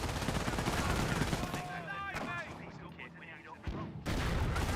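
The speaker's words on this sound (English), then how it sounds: "Mortar barraging somewhere." A mortar barrage in Company of Heroes, with rapid gunfire bursts and booming impacts under excited voices, breaking briefly before a loud burst of fire returns.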